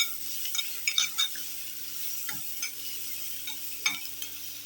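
Snake gourd and brinjal get stirred in a pan, with soft sizzling and a few faint, scattered scrapes and clinks of a spoon against the pan.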